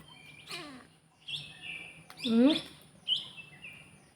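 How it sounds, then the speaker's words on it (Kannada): Several birds chirp and tweet at dusk in short separate bursts, some sharp and close, with quiet pauses between the calls. "ಸಂಜೆ ಆಯಿತು, ಹಕ್ಕಿಗಳು ಚಿಲಿಪಿಲಿ ಕಲರವ ಮಾಡ್ತಾ ಉಂಟು ನೋಡಿ."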